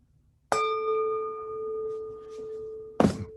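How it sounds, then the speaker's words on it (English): A gong is struck during a guided mindfulness session: a sudden metallic strike blooms into a long, steady ringing tone that hangs for about two and a half seconds before a second strike lands near the end. "Here's the sound of a gong"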